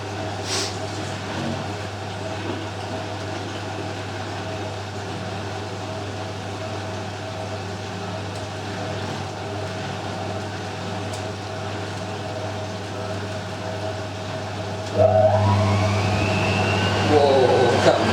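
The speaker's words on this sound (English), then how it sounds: "Oh, that's the Miele final rinse now." A Miele W562 washing machine running its final rinse on a 40°C machine-washable wool cycle: a steady mechanical hum and low drone that swells into a louder, busier churning surge near the end.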